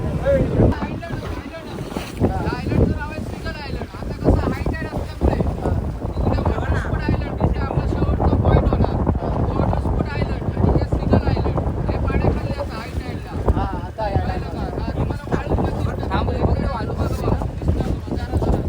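A boat rides the sea off Ganpatipule on the Konkan coast, with loud, constant wind buffeting and rushing water and engine noise throughout, and people talking over it.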